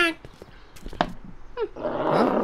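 A dog growls and whimpers in Back to the Future: The Game, a few short vocal bursts and yelps with brief noises between them, ending in a louder rough snarl.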